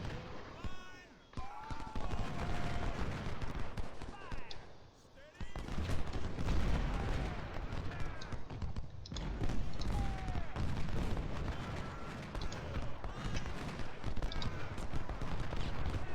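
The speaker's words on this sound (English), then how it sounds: "That gun is going to unload canister into Hunt's men here." Civil War artillery firing canister shot in a strategy game battle, heavy overlapping booms and crackling musket volleys rolling continuously, loud and dense, with a voice talking over the din.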